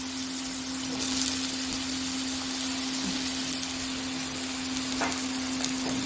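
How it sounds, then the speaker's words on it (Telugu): Brinjal pieces fry in a kadai with a continuous, even sizzle and hiss, alone and moderately quiet, with a faint steady hum underneath. "మళ్ళీ అదే కడాయి పెట్టుకొని మనం వంకాయ ముక్క వేసుకున్నాం"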